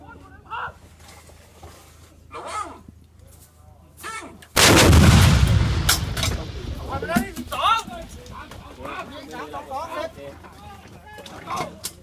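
Army artillery guns fire during a combat exercise: a single massive boom erupts midway and rumbles into a long decay, while soldiers shout commands in Thai before and after the blast.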